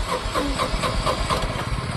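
A tractor engine starts and runs at a mid pitch with a steady, slightly pulsing rumble for a couple of seconds, close and fairly loud, with no voices.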